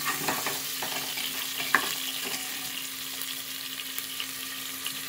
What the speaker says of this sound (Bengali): দেখেন আমি এগুলো সুন্দর করে একটু ভেজে নেব লালচে করে